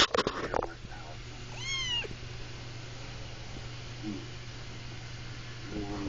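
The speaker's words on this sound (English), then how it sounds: "Precious crazy kitty." A cat gives a short, fairly faint meow early on, over a steady low hum, followed by quiet background noise and a couple of soft sounds.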